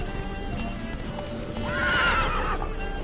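Roach, the horse in The Witcher 3 video game, neighs loudly and close with a long rising whinny. It plays over steady galloping hoofbeats and background rumble.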